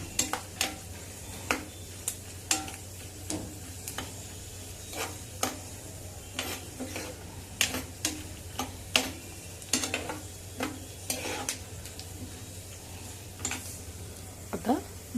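Ingredients roasting dry in a pan for a mango dish, with frequent sharp scrapes and taps of a spoon stirring against the metal over a low steady hum, the strokes coming in an irregular rhythm close by.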